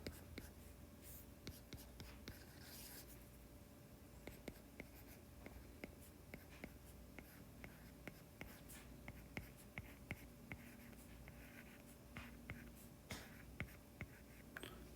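A pen or marker writes out a projectile motion equation during a physics lecture, with soft scratching strokes and light taps repeating through quiet room tone.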